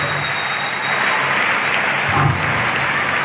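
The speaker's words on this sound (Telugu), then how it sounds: "వారందరికీ గట్టిగా మీరందరూ పిల్లలు ఒకసారి చప్పట్ల ద్వారా గట్టిగా థ్యాంక్స్ చెప్పాలి" Children clap together at a sports carnival, a dense, steady burst of applause lasting throughout with a slight swell near the end.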